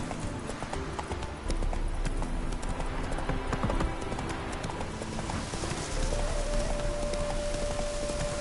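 Horse hooves clip-clop at a steady gallop in a video game, loud and continuous with scattered game ambience and occasional bird coos, and a sustained tone entering near the end.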